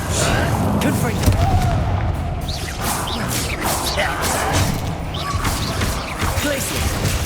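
Confringo fire spell explosions in the Hogwarts Legacy video game, a dense run of booming, crashing bursts and whooshes over a constant loud wash of battle noise, with voices mixed in.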